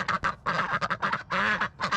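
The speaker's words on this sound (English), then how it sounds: "And we moved some stuff around in the duck cage last night." Ducks in a backyard duck cage quack loudly and repeatedly, nasal calls overlapping in quick bursts, close up and filling the whole stretch without any talk.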